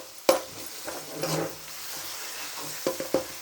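Tomato mixture frying in oil in a pan for Rayalaseema uggani, a soft sizzle under stirring sounds with a few sharp spoon-on-pan clicks near the start and end.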